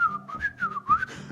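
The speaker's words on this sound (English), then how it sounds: "are you whistling in the mountain?" A person whistles a wavering, melodic tune in short phrases, close and clear, with no talking.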